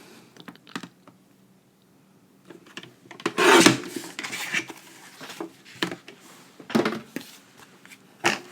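Paper from a recycled wedding invitation is trimmed for a handmade card, giving soft scattered rasping and cutting sounds in short bursts with quiet gaps, close and fairly faint.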